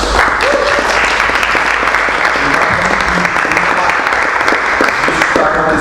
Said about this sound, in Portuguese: Você quer aplaudir o senhor pela vida do pastor Diego?